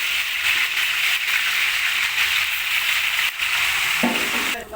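Ghee bubbling and sizzling steadily in a large pot for a 25 kg batch of rice akhni at a community center kitchen, a dense continuous fry with a brief clatter near the end.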